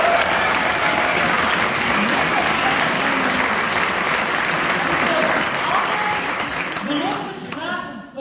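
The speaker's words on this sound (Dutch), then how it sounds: "Mag een hartelijk applaus." Warm audience applause at an award ceremony for a young talent, sustained loud clapping from a crowd with some voices mixed in, tapering off near the end.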